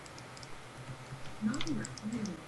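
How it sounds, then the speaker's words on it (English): Keyboard clicks carried over a Skype call, a scatter of faint quick taps with a few tonal blips, thin and distant over low background hum. "I can hear your keyboard clicks, but I can't hear your game sound."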